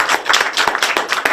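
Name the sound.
applause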